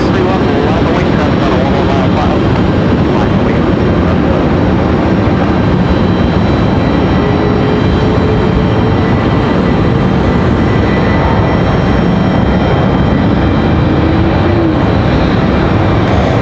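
Loud, steady roar of jet airliners taking off nearby at Raleigh-Durham International Airport, a broad continuous rumble that fills the whole stretch.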